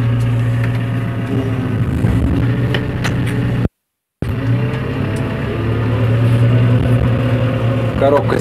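A 2009 JCB 535-95 telescopic loader engine runs with a steady, close diesel drone that holds throughout, broken by a single brief dropout midway.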